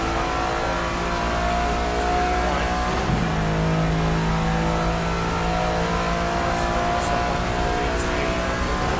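GT3 race car engine in a racing video game, a steady loud droning roar with sustained revving tones running throughout, holding an even pitch with a brief shift midway.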